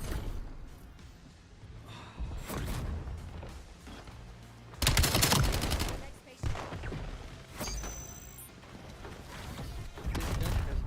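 Gunfire in Call of Duty Black Ops 7 multiplayer, dense bursts of shots and loud cracks amid chaotic battle noise, with a louder volley midway and talk mixed in.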